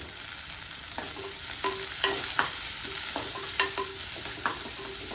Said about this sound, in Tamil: சின்ன வெங்காயத்தை போட்டு நல்லா வதக்கி விடுங்க.